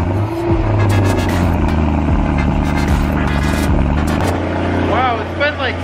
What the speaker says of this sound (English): That is a cold startup.